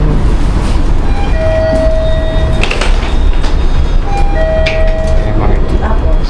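Singapore MRT train on the Changi line, a loud, steady rumble with whining tonal hums rising and falling, and a brief clatter in the middle.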